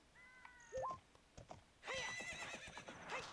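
Epona the horse in Legend of Zelda: Ocarina of Time gives a short whinny, then a longer neigh, with light hoof clip-clops and small game chimes around it, close and clear with no talking.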